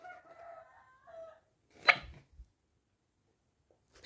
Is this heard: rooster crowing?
yes